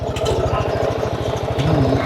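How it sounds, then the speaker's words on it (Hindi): A moped engine runs close by at an old temple courtyard, a rapid, even putter of low thumps that continues steadily throughout. "मोपेड पहली बार चला रहे हैं"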